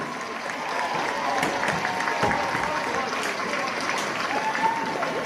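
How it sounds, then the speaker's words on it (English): A graduation crowd applauds the class of 2022 for their hard work, steady clapping from a large audience that holds at an even level for the whole stretch, with faint voices beneath. "Please give these young people a round of applause for all of their hard work"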